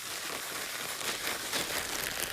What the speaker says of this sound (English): Seal the bag and shake it until it's evenly coated.